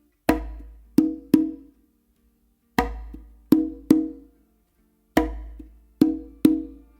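Conga pattern from a tumbao on three congas, a soft ghost note with the dominant hand followed by two ringing open tones, repeated three times in a clear, close, unaccompanied rhythm.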